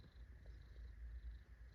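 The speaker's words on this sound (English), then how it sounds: "he likes to grab it in his mouth and purr and need biscuits" A cat purrs softly while gripping a robe in its mouth and kneading, a faint low rumble pulsing steadily throughout.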